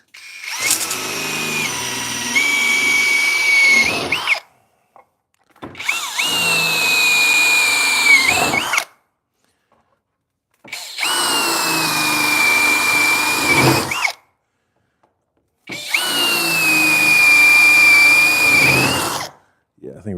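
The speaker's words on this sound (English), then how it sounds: "Let's drill some holes." A power drill bores holes in the cab of a 1957 International cab-over truck in a shop, with four sustained whining bursts of about four seconds each, separated by short silent pauses.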